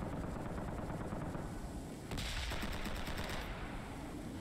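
Gunfire in the Call to Arms war video game, with a sudden heavy blast about halfway through from a tank's main cannon, set among rapid, repeated shots that rattle on steadily.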